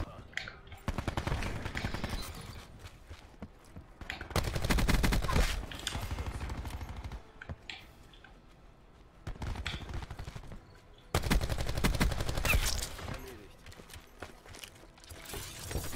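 Gunfire in the video game Black Ops 4: loud automatic bursts with rapid clattering come in several long stretches, separated by quieter gaps of background game sound, with no speech over them.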